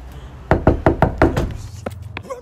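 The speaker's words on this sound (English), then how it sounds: "Knock, knock, knock, knock." Six sharp knocks on a house door in quick succession, fairly loud and close, then a couple of softer taps trailing off, with no talking over them.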